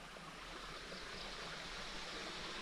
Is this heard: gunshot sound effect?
no